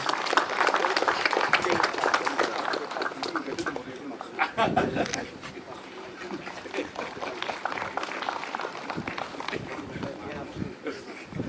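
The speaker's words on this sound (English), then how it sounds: "Please give a huge round of applause." An audience at a government rural development programme event breaks into applause, a broad crowd clatter that is strongest at first, then thins and wavers, with voices and movement mixed in beneath it.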